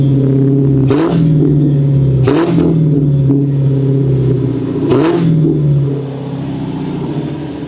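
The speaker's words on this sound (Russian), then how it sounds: "Ну что, теперь выхлоп." Exhaust note of a car up close as the engine is revved three times to about 2000 rpm. Each rev is a rising roar that settles back to a deep, steady idle rumble, and the sound quiets toward the end.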